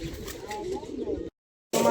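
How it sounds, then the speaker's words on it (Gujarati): Pigeons cooing softly at a friend's home loft, low steady murmuring mixed with nearby talk, cut by a short silent gap before a louder burst of sound resumes. "બધા કબૂતરને પૂરી દીધા"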